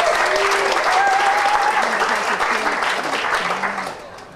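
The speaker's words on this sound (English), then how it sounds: "Let's give them a round of applause." Conference audience at a Queensland Landcare welcome reception breaks into a steady, dense round of applause that fills the room, with a few voices calling out over it before the clapping tapers off near the end.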